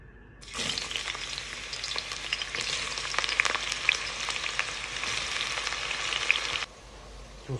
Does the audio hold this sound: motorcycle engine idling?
no